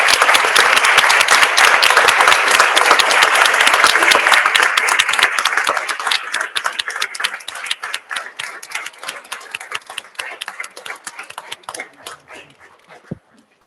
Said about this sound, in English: giving one last round of applause to all the women in here